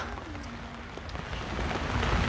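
Steady rain pours down in a dense, continuous hiss, growing slightly heavier toward the end, with no voices.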